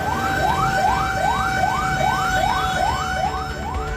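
A fire engine siren from a South Jakarta fire unit, called out to a car fire, wails in a loud, close, evenly repeating rising sweep, with a truck rumbling underneath and no voices.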